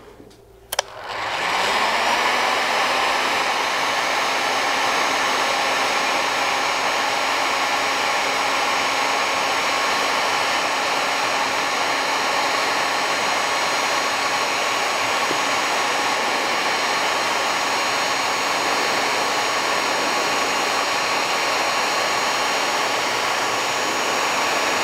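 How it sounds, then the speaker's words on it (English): A heat gun clicks on and roars with a steady, loud, unbroken blowing whine while shrinking adhesive-lined heat shrink tubing for a DIY LiFePO4 battery build. "And then I need the heat gun."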